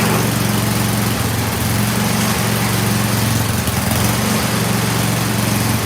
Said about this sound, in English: I don't know if you guys can hear it idling low like that